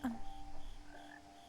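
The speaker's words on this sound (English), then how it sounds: "Frog. I can hear a frog." A frog croaks in the video game What Remains of Edith Finch, a few low, quiet croaks that fade quickly against a dark, faint ambient hum.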